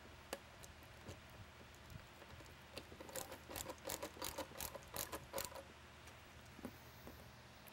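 Screwdriver driving two mounting screws back in to secure a branch guard onto a beacon's base, giving a close, quiet run of fast ratcheting ticks and clicks in bursts.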